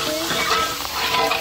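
Raisins and boondi frying in ghee for Tirupati laddu: a continuous close sizzle with light stirring and scraping in the pan, steady and unbroken throughout.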